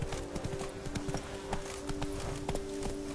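Roach the horse galloping in The Witcher 3, rapid rhythmic hoofbeats pounding steadily and close throughout, with a low tonal hum running underneath.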